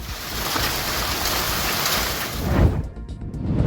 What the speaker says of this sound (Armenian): Ուժեղ կարկուտ է տեղացել Շիրակի մարզի գյուղ Նահապետավանում։